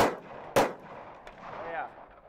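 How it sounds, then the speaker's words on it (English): Two loud, close Glock pistol shots ring out at an outdoor shooting spot, each with a sharp crack and a fading echo, the second about half a second after the first. "We made it out shooting. Brandon's loading up some Glock."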